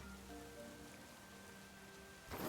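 Rain falling in a video game, a soft, even patter of drops heard faintly and alone, with a brief louder swell of noise right at the end.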